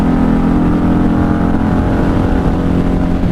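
1994 Honda Magna 750 motorcycle riding in fifth gear on the highway, a loud, steady close engine drone with constant rumble and wind, unbroken throughout.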